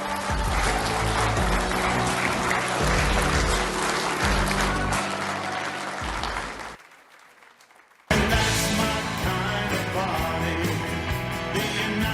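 Loud rally crowd applauding and cheering in a dense, continuous burst that cuts out abruptly into near silence for over a second before the clapping returns just as strongly.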